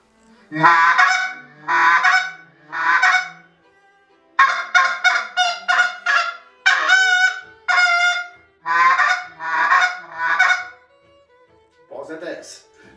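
A goose decoy call blown by mouth imitates goose honks in a dozen loud, clipped bursts, loosely grouped with short pauses, close and clear with no talking over them.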